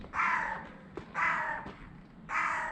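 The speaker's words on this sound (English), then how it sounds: "That's a big bird." A big bird, likely a crow, gives three loud harsh caws spaced about a second apart outdoors, with a faint click between calls and no talking.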